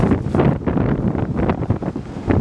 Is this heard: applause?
no